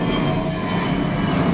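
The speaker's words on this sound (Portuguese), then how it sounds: "O som do avião, o barulho, ele passa bem pertinho aqui da minha casa." An airplane passes low and close overhead near a house, a loud, steady broadband roar filling the whole moment without easing, with no voices.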